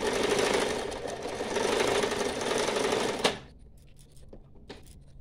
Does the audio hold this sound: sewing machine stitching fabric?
yes